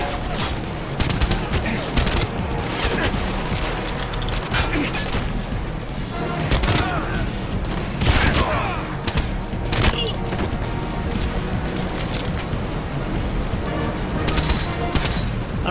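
Sustained gunfire in the first-person shooter GoldenEye 007: Reloaded, dense rapid bursts and sharp shots layered over a loud, continuous game soundscape for the full stretch.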